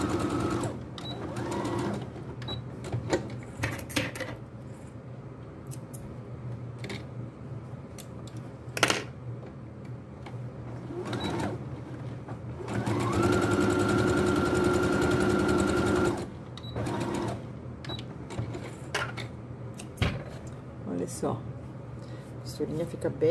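A sewing machine stitching a seam on a triangular toiletry bag, with short bursts and one sustained run of fast mechanical whirring. Faint talk and handling clicks fall between the bursts, all close and fairly quiet.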